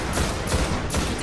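Rapid gunfire from a weapon in the video game Destiny during a boss fight, a short burst of several sharp shots at close range.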